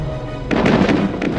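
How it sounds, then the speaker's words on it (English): Meteors burst apart in the ABC Mouse outer-space learning game, a run of loud, rapid cartoon blasts and pops over a steady electronic game backdrop. "10 meteors destroyed."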